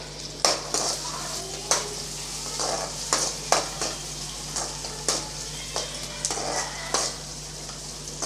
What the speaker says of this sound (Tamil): ரெண்டு துண்டு இஞ்சி சேர்க்குறேன் ஒரு ஏழு பல் பூண்டு சேர்க்குறேன் அதையும் சேர்த்து நல்லா வதக்கி விட்டுக்கலாம்